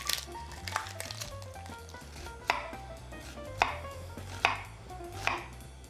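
Knife trimming and chopping an onion on a cutting board, a handful of crisp, distinct cuts spaced about a second apart, close and fairly quiet over a low background hum.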